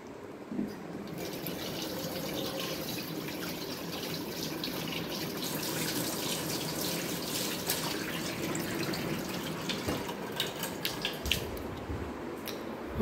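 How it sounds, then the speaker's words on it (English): A tap runs steadily into a sink while hands are washed, a close, continuous splashing gush with small irregular splatters throughout and no talking. "I'm gonna wash my hands."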